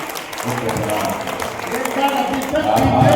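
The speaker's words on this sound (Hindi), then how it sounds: "आसमान में तालियों की गड़गड़ाहट से बेटियों का सम्मान कीजिए।" Audience applause at a Hindi veer ras kavi sammelan for Mahaveer Jayanti, a dense, sustained wash of clapping from a crowd that holds steady and swells slightly near the end, with no gaps.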